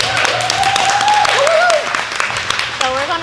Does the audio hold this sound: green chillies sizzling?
no